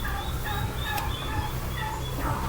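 A chicken clucks and calls repeatedly in short bursts, close and fairly loud over a steady background hum.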